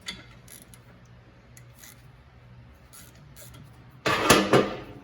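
A ratchet turns a T30 Torx bit to back out a bolt on the rear brakes of a Ford Transit 350, faint clicks at first, then a loud close burst of metallic ratcheting near the end.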